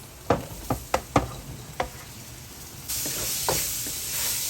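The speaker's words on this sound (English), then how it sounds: "Continue to stir fry." Mixed vegetables stir-fried in a pan, with a handful of sharp spatula scrapes and clacks early on, then a louder, steady sizzle rising as cooking continues, no voices.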